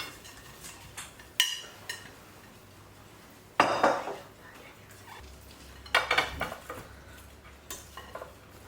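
Deep fried garlic potatoes are plated onto a dish, with several clinks and scrapes of cutlery against plates and pans. The light knocks are spaced out over a quiet kitchen background.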